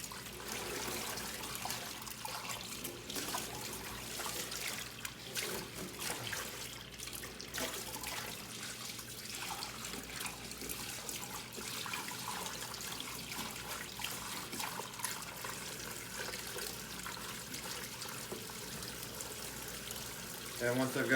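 Water runs and trickles steadily through black aquarium sand in a bucket while it is stirred by hand, a continuous close splashing wash for the whole stretch with no talk.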